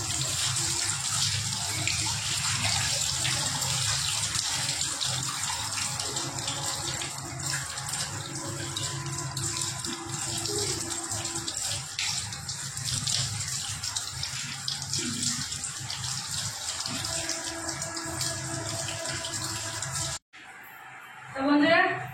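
Running tap water pours steadily while hilsa fish are rinsed under it, a continuous close splashing gush that holds for about twenty seconds before stopping abruptly, followed by a brief clatter.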